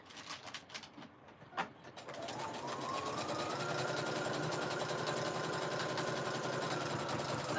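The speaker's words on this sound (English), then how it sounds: "All right, I'm sewing." A sewing machine whirs steadily and fairly close after a few brief clicks and knocks, its motor hum rising and then holding an even drone to the end.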